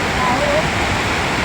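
Strong floodwater rushing loudly, a dense continuous roar of churning water close by, with stones reportedly rolling along underneath; a voice can be heard faintly under the torrent.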